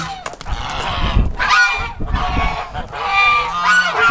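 Several geese honk loudly and repeatedly nearby, overlapping harsh calls in irregular bursts.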